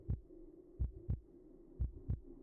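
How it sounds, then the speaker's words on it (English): Heartbeat effect from the video game It Gets So Lonely Here: paired low thumps repeat at a steady, slow pace over a soft background hum. It is moderately quiet and plays alone, with no talk. "I don't know if you can hear the heartbeat, but that's such a good touch that that's been happening."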